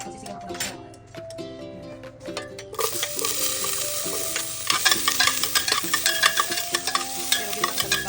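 Food sizzles and fries steadily in a pot while a utensil scrapes and stirs it, with music playing in the background.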